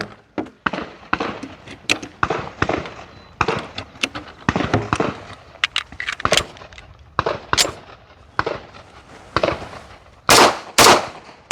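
Repeated close, loud gunshots from a Colt Gunsmith Special long-slide 1911 pistol in .45 ACP, fired in irregular bursts of single shots with short pauses between them and no talking.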